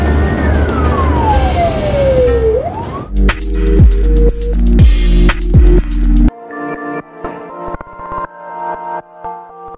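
An ambulance drives to a hospital with its siren wailing and sweeping in pitch over a loud, close engine rumble, then yelping in quick repeated bursts before the sound cuts to a quieter interior hum.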